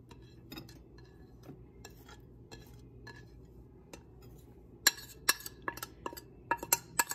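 A spoon stirs oatmeal and egg in a bowl, with soft scraping early on that turns into a quick run of sharp metallic clinks against the bowl near the end.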